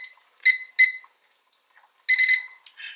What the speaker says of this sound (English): Nope, that's microwave.